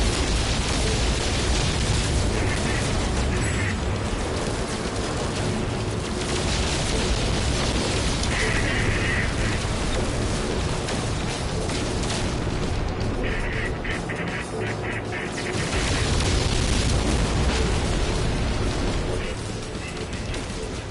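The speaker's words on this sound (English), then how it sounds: "Who the hell is shooting me?" Enemy gunfire and explosions in the No Man's Sky video game, a dense, continuous barrage of booms and shots with rumbling blasts throughout, loud and busy.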